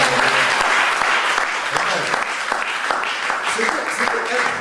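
A church congregation applauds and acclaims God, dense sustained clapping from a large crowd mixed with shouting voices, loud and continuous across the whole stretch.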